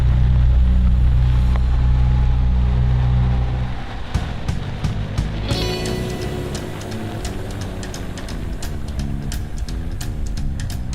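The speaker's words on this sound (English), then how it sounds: "Just me and my engine." A loader's engine runs close up, first as a deep droning rumble, then shifting into a rougher, pulsing mechanical chug with rattling clicks.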